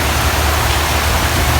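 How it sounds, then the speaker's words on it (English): Steady rain falls in the Philippines, an even, dense hiss with no breaks, close and unbroken by voices. "Thankfully I didn't go because it's raining now"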